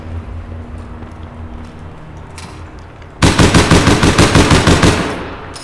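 Rapid automatic weapon fire in APB Reloaded during a team deathmatch, a loud burst of about ten closely spaced shots that starts abruptly after a stretch of quieter low background rumble.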